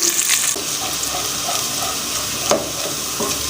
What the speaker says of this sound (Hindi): प्याज को हम कर लेंगे अच्छी तरह से ब्राउन।